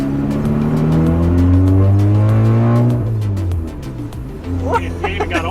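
Loud engine of a Ford Focus RS or Golf R all-wheel-drive hot hatch, a sustained roar with rising and falling pitch that drops off after a few seconds, then revs again, with voices speaking over it.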